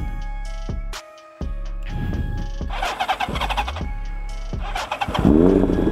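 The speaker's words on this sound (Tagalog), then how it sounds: "Inline 4, apat na carburetor, Diyos mio, 738cc of pure power, naka SC Project full exhaust." An inline-four 738cc motorcycle with four carburetors and an SC Project full exhaust cranks and catches, settling into a loud, close, uneven idle that rises into sharp revving blips, with no voices over it.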